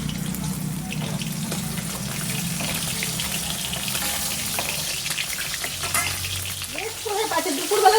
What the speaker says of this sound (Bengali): মাছটাও ভাজা হয়ে গেছে বসতে বসতে।